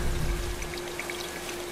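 Helitanker pulling up water over a wildfire zone in Life Is Strange 2, a steady rushing, pouring wash with light droplet patter that fades a little after the first moment.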